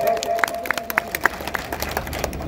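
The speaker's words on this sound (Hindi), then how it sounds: "एक बार जोरदार ताली बजा करके उस नज्म के लिए माहौल दें।" Scattered, uneven claps from an audience at an Urdu poetry mushaira in Bihar, a handful of sharp separate hand claps over a steady murmur of the crowded hall.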